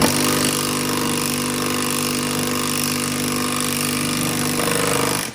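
A RIDGID R8224K impact tool drives a fastener into wood with a loud, continuous hammering rattle lasting several seconds before stopping abruptly.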